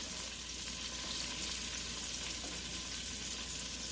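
Sliced onion sizzles in a pot that has been used to sear a pot roast, a soft, even frying hiss held at a low, steady level with no speech.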